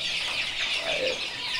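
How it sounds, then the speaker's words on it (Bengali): Small silkie chickens cluck at a fancy-breed chicken farm in Bangladesh, a steady close murmur of soft bird calls with no talking over them. "এই যে এইটুকু মুরগি কিন্তু ডিম দিচ্ছে"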